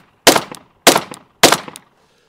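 Three pistol shots fired with a firm two-hand grip, each a loud, sharp crack with a brief decaying tail, spaced at an even, deliberate rhythm about six-tenths of a second apart.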